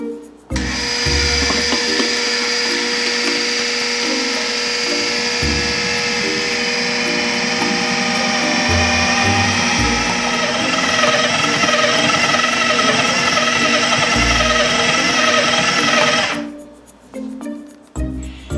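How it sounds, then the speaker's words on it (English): A food processor motor whirs loudly and steadily for about fifteen seconds while kneading pizza dough, then cuts off, leaving a few faint clatters. "I'm going to turn the food processor on and then pour all of this at once through the feed tube."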